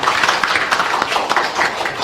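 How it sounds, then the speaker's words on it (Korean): Applause from the audience at a Korean public meeting, with dense overlapping claps forming a steady, moderately loud wash that fills the moment without any talk over it. "박수 한번 주세요."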